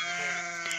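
A goat lets out a single drawn-out, close bleat with a strongly tonal, wavering voice.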